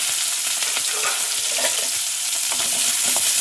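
Onions and chillies sizzle and fry steadily in a hot pan, with occasional scraping of a spoon stirring, close and continuous.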